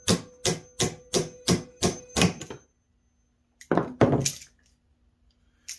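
A series of about seven sharp, evenly spaced hammer strikes rings out as pallet wood is pried apart, then a pause followed by two louder cracking knocks as a board breaks.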